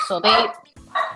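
A pet dog barks a few sharp times at close range, with a person speaking over the barks.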